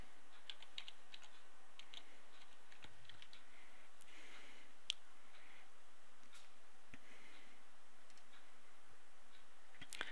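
A folder name being typed on a computer keyboard: quiet, close key clicks in irregular bursts over a faint room hiss, with no talking.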